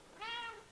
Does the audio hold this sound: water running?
no